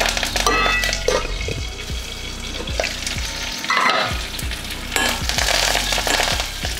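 Cut dried red chillies, cumin seeds and curry leaves sizzle in hot oil for a tempering, crackling steadily with repeated scraping stir strokes and a few sharper bursts of spitting.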